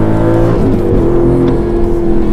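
An Aston Martin Vantage AMR with a large V8 accelerating, a loud, close, steady engine roar with a low rumble, slightly rising in pitch.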